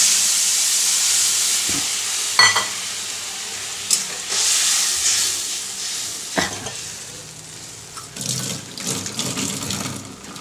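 Tamarind water poured into a pan of frying puti fish sets off a loud, continuous sizzle, with splashy bursts and stirring scrapes breaking through the steady hiss.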